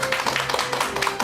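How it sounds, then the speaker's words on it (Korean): A studio audience briefly claps in a dense, brisk burst to welcome a classical literature critic onto a Korean lecture program. "큰 박수 부탁드립니다."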